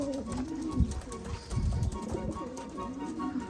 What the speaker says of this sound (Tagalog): Ayun na, nasa loob na mga kalapatids.